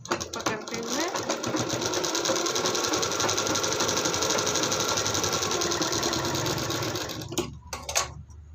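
A sewing machine stitches a blouse, running in a fast, steady mechanical chatter close by for several seconds before slowing and stopping, with a few knocks at the end.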